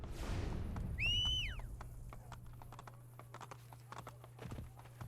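Horse hooves clip-clop in a quick, steady patter in Assassin's Creed, with a brief whinny-like rising tone near the start over a low ambient hum.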